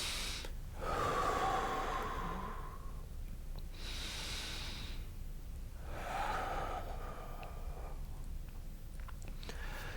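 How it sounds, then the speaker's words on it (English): Slow, audible breaths during a seated chair twisting exercise for back pain, alternating long exhales and inhales in a steady rhythm, close and fairly quiet with a soft hiss. "we're breathing out as we're twisting, breathing back in as we come back"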